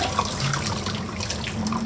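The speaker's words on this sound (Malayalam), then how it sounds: "ഇനി നമുക്ക് ഈ വെള്ളം അങ്ങ് ഊറ്റിക്കളയാം" Hot water poured off boiled hot dogs makes a continuous splashing gush, steady and close, with no talking.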